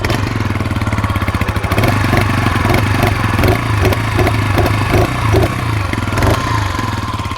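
A new Orval Sirio 125 motorcycle engine runs close and loud with no voices. It holds a steady, throbbing idle, then its revs climb slightly and pulse rhythmically before settling back.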